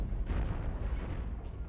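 Enemy spaceship cannon fire in the space-combat game Cosmoteer, a dense, rumbling barrage of low booms rolling continuously and loud throughout, with no pauses between blasts.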